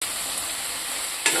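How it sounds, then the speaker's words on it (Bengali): Spice paste with green chillies fries in a pan for a country chicken dish, producing a steady loud close hiss that lasts about a second, with a brief clank near the end. "মশলাটা আমি ভালো করে ভাজবো। এটা কাঁচা লঙ্কা, তাই আগে মশলাটা ভেজে নিচ্ছি"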